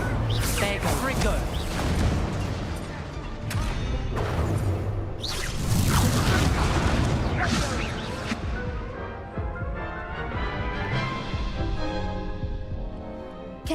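Spell blasts and explosions in the video game Hogwarts Legacy, with several sharp whooshing bursts and heavy crashes near the start and middle, then a long fading rumble while a voice talks over the action.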